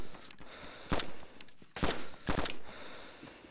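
A few bursts of gunfire ring out in the survival video game DayZ, scattered across a few seconds with irregular gaps, each report sharp and fairly close, with no voices over them.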